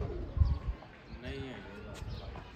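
Pigeons coo softly in a short low burst near the start while someone talks over them, with faint outdoor bird calls and rustle behind.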